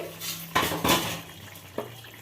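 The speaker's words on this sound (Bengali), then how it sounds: "এবার আমি চাপাটা খুলে নিচ্ছি" A lid lifted off a cooking pan of potatoes and mourola fish curry, heard as a few close metallic clanks and knocks in a quiet kitchen.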